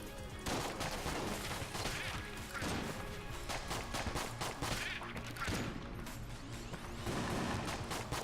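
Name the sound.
bullets firing everywhere in Enter the Gungeon video game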